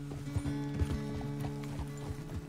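Horse hooves clip-clop in Red Dead Redemption 2, a steady run of distinct hoofbeats close by, with a faint whinny and low background tones beneath.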